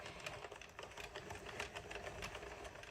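Addi or Sentro circular knitting machine being hand-cranked, a continuous quiet plastic clicking and rattling with a fast, even mechanical rhythm throughout.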